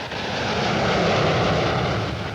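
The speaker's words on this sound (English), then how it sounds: "when those jets take off, they roar as they claw their way into the warm Florida sky" A jet airliner roaring during takeoff near Palm Beach, Florida, a loud continuous engine rumble that swells and holds, heard alone without talk.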